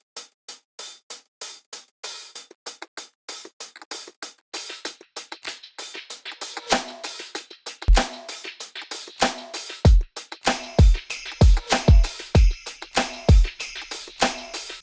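Real hi-hats in a Christmas pop track tick in a steady rhythm alone at first, then louder kick-like hits and busier percussion join in the second half, close and prominent.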